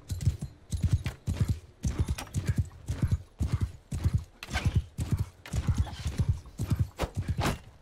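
Horse hooves clip-clopping in rapid rhythmic bursts with whinnying in a medieval battle from the Bannerlord video game, loud and close, repeating steadily with no voices over them.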